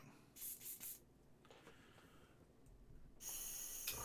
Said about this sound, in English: Spray into my overspray jar.